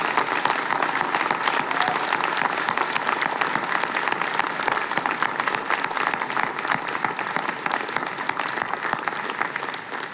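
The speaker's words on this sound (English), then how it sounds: "So a big round of applause for our new inductees." Steady, dense applause from an audience welcoming new inductees at a university direct admit scholars induction ceremony, filling the hall evenly for about ten seconds without a break.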